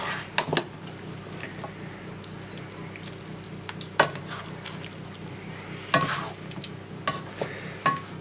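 Chicken and pork being stirred in a pan to coat them in sweet and sour sauce: a soft sizzle throughout, broken by a few sharp scrapes and clacks of the spoon against the pan.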